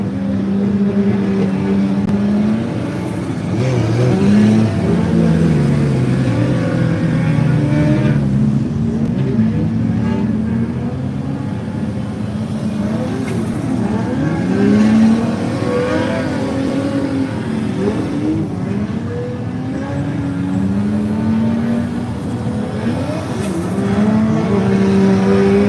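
Formula Drift cars roar through a practice run, their engines revving and wailing with rising and falling pitch sweeps, tire noise and repeated accelerations blending into a loud, continuous racing din.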